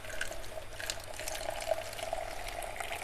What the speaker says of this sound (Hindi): अच्छा ये पानी डल रहा है और ये पूरा कलर हो जा रहा है अपने आप